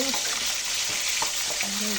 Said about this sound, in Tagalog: umpisa na natin siyang prituhin